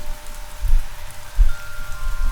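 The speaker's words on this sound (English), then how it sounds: "If you're hearing only rain and wind chime sounds, then the plan is working." Steady rain patters on a surface with a faint tonal ringing in the background, a few soft low thumps breaking through; no voices.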